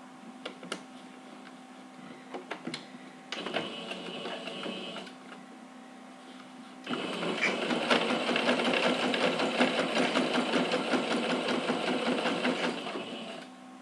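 A sewing machine stitches a seam on a folded fabric pouch, starting with short bursts of rapid mechanical clatter, then running in a longer, louder continuous whir, close up with brief pauses between runs.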